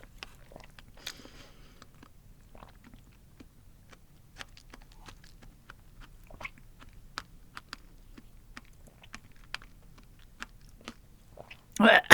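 Someone eats bread spread with Vegemite and topped with fruit, making soft, close chewing and crunchy bites at an uneven pace. A louder burst of sound comes at the end.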